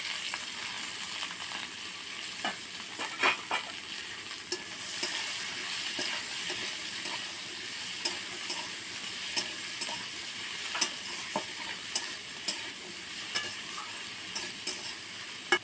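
Potatoes and eggplant fry in a pan with onion and lentil dumplings, a steady sizzle with repeated clicks and scrapes of stirring all the way through, no voices.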